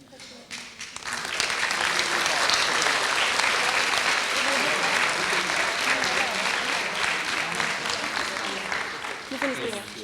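Hearty audience applause at a live event on special giftedness, with steady dense clapping that rises quickly and holds for several seconds before tapering slightly near the end.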